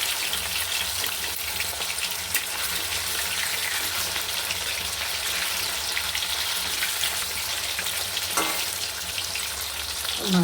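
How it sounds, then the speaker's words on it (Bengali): Large pieces of rohu fish fry in hot oil with a steady, dense sizzle that runs unbroken throughout, and a brief clatter near the end. "মাছগুলো আমি এবার মাছগুলো উল্টিয়ে দেবো।"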